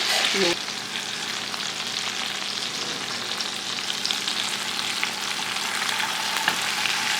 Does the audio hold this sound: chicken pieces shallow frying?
yes